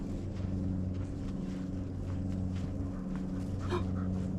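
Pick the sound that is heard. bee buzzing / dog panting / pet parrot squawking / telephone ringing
dog panting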